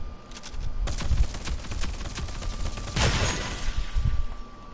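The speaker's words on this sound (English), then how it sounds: "let's say we're gonna run up on an enemy and I'm just gonna hip fire him" Gunfire from a weapon fired from the hip in the video game Rogue Company, rapid bursts of shots in quick succession, fairly close and steady, with no talking.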